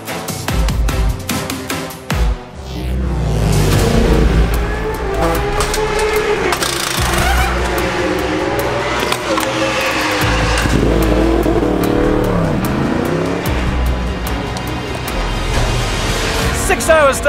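Racing motorcycles roar past at the 24 Hours of Spa endurance race, a loud sustained engine drone with rising and falling revs as bikes pass close by, continuous throughout with a brief dip early on.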